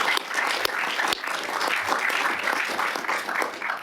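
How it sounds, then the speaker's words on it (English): A room full of people at a governing body meeting applauds, giving steady, fairly close clapping that runs through the whole stretch with no voices over it. "let's have a round of applause"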